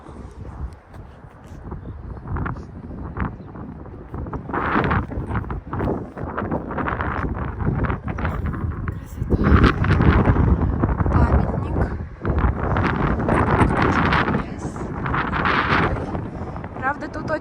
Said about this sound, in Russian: Правда, тут очень ветрено,